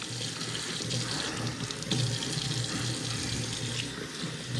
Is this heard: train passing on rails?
no